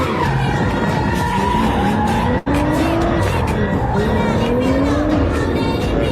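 A car drifts around a police car, with loud, sustained tire squeal and skidding over engine noise, broken by one very brief cut.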